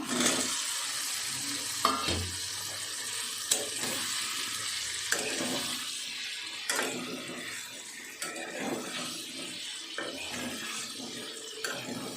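Pre-fried potatoes tumble into spiced masala for Bengali dhokha dalna, giving a steady close sizzle with scraping stirs and clinks of the spatula against the pan throughout, no voices.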